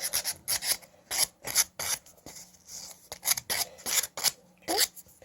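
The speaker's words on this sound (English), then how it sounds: "Make sure all the jagged edges are off. Sand down the points." Sandpaper is pressed firmly and rubbed in quick, rasping back-and-forth strokes over the pointed tops of wooden fence pickets, up close and fairly quiet, in irregular bursts with short pauses.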